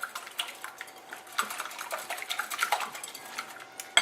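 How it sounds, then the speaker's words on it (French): A whisk beats cracked eggs in a bowl, blending yolk and white for a chocolate fondant batter, with quick, irregular metallic clinks and scrapes that sound close and fairly soft. "je casse en fait mes œufs, je mélange déjà le jaune et le blanc ensemble"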